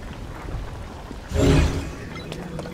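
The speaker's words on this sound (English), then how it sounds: "Whoa, and now it's raining, huh?" Rain and a low thunder rumble in the video game The Legend of Zelda: Tears of the Kingdom, a steady patter with a brief swelling roll of thunder midway, heard alone.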